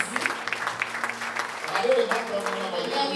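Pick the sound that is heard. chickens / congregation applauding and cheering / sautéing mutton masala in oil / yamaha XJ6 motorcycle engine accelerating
congregation applauding and cheering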